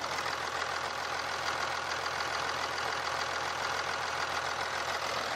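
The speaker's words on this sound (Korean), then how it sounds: "바로 엔진 소리 한번 들려드릴게요." A Kia Mohave SUV's 3.0-litre V6 diesel engine idles steadily and evenly at close range, a smooth low rumble with a faint rhythmic knock and no voices.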